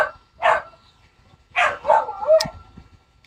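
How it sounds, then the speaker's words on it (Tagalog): A dog barks a few times in short bursts at moderate distance, with gaps of near quiet between the yaps. "Ang ingay ng aso."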